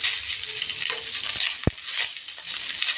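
Fried rice being stirred in a hot pan, with a steady hiss of frying and a single sharp metallic clink of a utensil against the pan.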